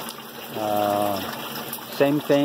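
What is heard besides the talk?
water pumping into aquaponics fish tank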